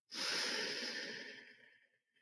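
Deep breath during a guided breathing exercise, a single long airy inhale that begins sharply, stays steady, then tapers off and fades, close and soft.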